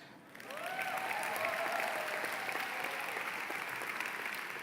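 Steady applause from an audience at a high school commencement rises quickly and continues evenly throughout, a dense wash of clapping heard from a moderate distance.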